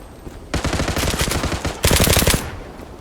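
Automatic gunfire in the video game Zula, two rapid bursts of shots, the second louder and sharper, with a brief gap between them and no talk.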